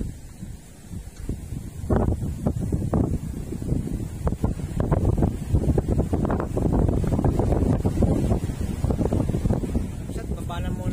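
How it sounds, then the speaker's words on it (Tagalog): Steady, heavy wind buffeting the microphone outdoors at a net-fishing spot, a constant low roar with gusty surges, and voices faintly talking underneath. "Ayaw huminto ng hangin."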